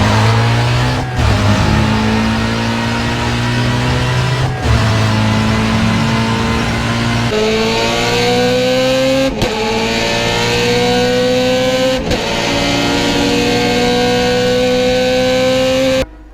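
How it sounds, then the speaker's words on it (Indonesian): BMW M3 GTR racing car in Need for Speed Most Wanted, its engine roaring loudly and continuously as it revs up through repeated gear shifts, pitch climbing and dropping with each change. "suara mesin dan transmisinya sama persis seperti BMW M3 GT-R versi balap"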